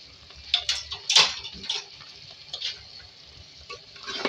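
Spiced potato and ridge gourd curry with cumin and garam masala is stirred and mixed in a pan, giving a few scraping, clinking strokes over a faint sizzle.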